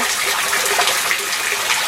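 Street runoff after rain rushes loudly through a gutter, a continuous close, bright gushing of water with no voices over it.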